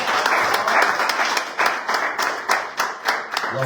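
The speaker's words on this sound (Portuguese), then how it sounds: "Aplauda o Senhor em nome de Jesus." A church congregation applauds during a thanksgiving service, close and loud. The clapping is brisk and slightly uneven, with some claps standing out sharply as it goes on.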